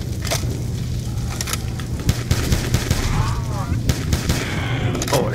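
Gunfire in the video game Black Ops 2 sounds in a prison level, with repeated sharp shots and short bursts over a constant low game hum, loud and close, while a player's voice reacts briefly.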